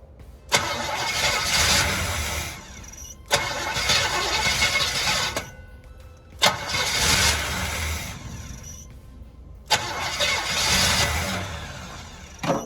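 An old 1981 GMC Sierra pickup engine cranks four times in a row, each long grinding start attempt separated by short pauses, loud and close.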